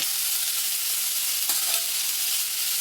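Steady, loud sizzling of chopped onions frying in hot oil in a wok, a continuous hiss with a faint stir near the middle.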